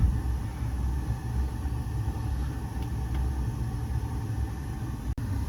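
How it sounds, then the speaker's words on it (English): A newly replaced furnace blower motor runs with a steady low rumbling hum that stays even and fairly quiet, broken only by a single sharp click near the end. "So the motor kicks in."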